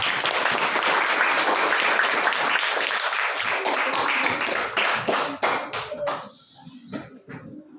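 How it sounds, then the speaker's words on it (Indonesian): A classroom gives a group a round of applause after its presentation: loud, dense clapping holds steady for about five seconds, then thins into scattered individual claps and fades out. "Berikan aplaus untuk kelompok anggrek."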